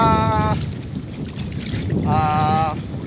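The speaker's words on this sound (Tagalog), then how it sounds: "medyo mangin-hangin dito" Steady wind noise buffets the microphone on a small boat alongside a low boat engine rumble, with two short whining tones rising above it.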